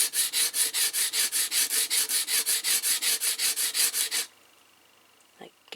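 A pastel pencil is rubbed against an abrasive to sharpen its tip into a chisel shape, a steady run of about twenty quick, even scraping strokes that stops abruptly, followed by near silence and a faint tap.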